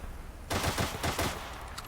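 Gunfire in Gates of Hell, a rapid burst of about half a dozen close, sharp shots in quick rhythm, loud over a steady battlefield hiss.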